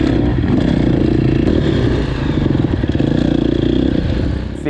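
A motocross bike engine juddering at low revs: a loud, close, rough pulsing drone with steady rapid chugging throughout.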